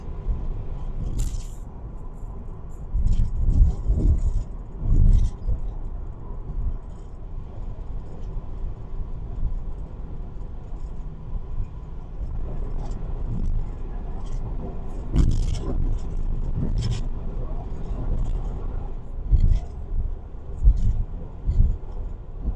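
A van rolls along the road with a steady low engine and tyre rumble, swelling with occasional louder thumps and jolts, heard from inside the cabin.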